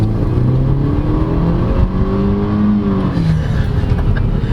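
A 2009 Mercedes-Benz C200 Kompressor driving around town, its engine a steady close drone with rising and falling whirring tones as it accelerates. Road noise sits underneath.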